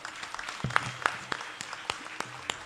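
Congregation applause at a church feast Mass for Saint Anthony at Amalashramam, heard as a brief scattered patter of claps with a few sharper individual hits, moderately distant and fairly soft.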